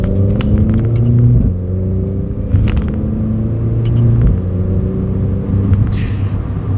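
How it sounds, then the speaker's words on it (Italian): A Renault Clio IV RS Trophy with 220 hp downshifts two gears while slowing, its engine droning loudly from inside the cabin with quick stepped pitch changes as each gear drops, plus a few clicks and knocks. "Mi butto dentro due marce per rallentare e il cambio reagisce"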